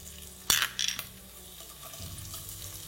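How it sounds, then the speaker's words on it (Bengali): Whole cumin seeds and chopped garlic hit hot oil in a pan with a brief sharp clatter and hiss, then settle into a faint, steady low sizzle. "এবার ফ্লেমটাকে লো রেখে এটাকে আপনাদের ভালো করে একটু ভেজে নিতে হবে।"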